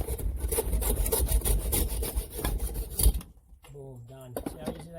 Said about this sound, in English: Hacksaw in about 10 seconds